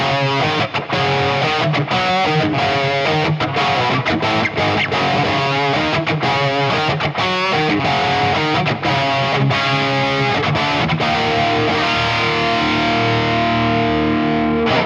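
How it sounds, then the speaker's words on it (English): Electric guitar with a sizzling, heavily distorted tone through a TONEX Plug amp modeler, playing big ringing chords with the single notes still distinct, loud and continuous throughout with no voices. "That wonderful sizzling wall of distortion, but it's so dynamic you can pick out all the single notes in those big chords."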